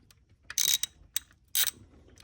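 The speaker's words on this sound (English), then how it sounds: "So we're gonna break loose our 14 mil lock nut that's on there." A wrench breaks loose a very tight 14 mm lock nut on a 6.7 Cummins engine's valve adjuster, giving a few sharp metallic ratcheting clicks in short bursts, close and alone.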